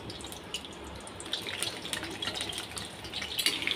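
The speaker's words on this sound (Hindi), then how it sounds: "कढ़ाई में हमने रिफाइंड ऑयल डाल दिया है अपनी गोभी और आलूओं को फ्राई करने के लिए।" Cauliflower pieces fry in hot refined oil in a kadai over a high flame, giving a close, steady crackling sizzle with bright popping spits that grow busier toward the end.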